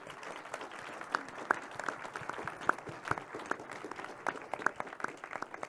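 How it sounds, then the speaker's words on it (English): Audience applause for a panel of guests at a talk on support systems, a steady patter of many hands clapping with sharper individual claps standing out, fairly near and continuous throughout. "can we get a round of applause for people who are so brave to do this?"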